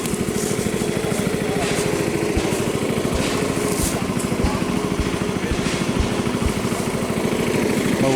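A Ford motor on a Model T runs steadily with a rough, rapid chugging, loud and continuous throughout, heard at an outdoor antique tractor and engine show.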